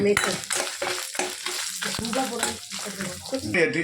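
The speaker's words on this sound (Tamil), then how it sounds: "பெருஞ்சீரகம், இதெல்லாம் நம்ம வறுத்து எடுத்துக்கலாம்" Fennel seeds and a garlic clove dry-roast in a pan, with close, busy crackling and scraping stirs repeating in quick irregular strokes.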